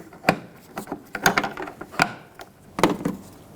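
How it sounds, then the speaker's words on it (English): A plastic trim tool prying a trim piece off a 2013-2020 Nissan Pathfinder near the taillight, giving several sharp clicks and snaps at irregular intervals, close and moderately loud, with no talking. "take a plastic trim tool and pry it away"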